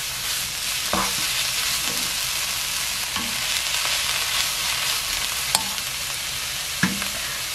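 Minced frozen garlic stir-frying in a pan over lowered heat, a steady soft sizzle broken by occasional sharp taps of a spatula against the pan.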